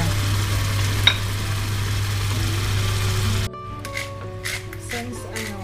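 Mango sauce simmers in a pan with a soft steady bubbling and faint sizzle, a low hum running beneath before cutting out, followed by quieter clinks and stirring.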